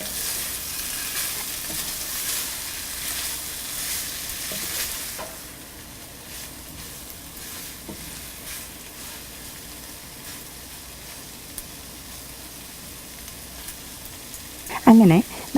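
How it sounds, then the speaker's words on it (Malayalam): Liver fry with curry leaves crackles steadily in a pan, the sizzle softening partway through, with scattered stirring scrapes and a brief clatter at the very end. "ലിവറിൻ്റെ വെള്ളമെല്ലാം വറ്റി നന്നായിട്ട് വരണ്ടിട്ടുണ്ട്. ഇതിലോട്ട് ഒരു 2 കറിവേപ്പിലയും കൂടി ഇട്ട് നന്നായിട്ട് മിക്സ് ചെയ്യുക"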